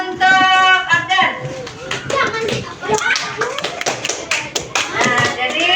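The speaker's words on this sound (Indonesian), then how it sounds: "tepuk tangan untuk Abdan" Pupils in a primary school classroom clap for a classmate, a burst of close, uneven hand claps and taps mixed with children's voices and chatter throughout.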